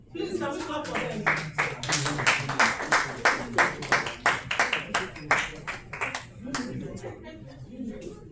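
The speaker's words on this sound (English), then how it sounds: "Please, can we clap for them?" At a tech conference panel session, a few people clap in a clear, regular rhythm for the speakers, close and fairly loud, then thinning out as talk resumes underneath.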